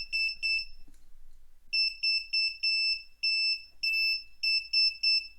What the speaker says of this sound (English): That's the SOS sign.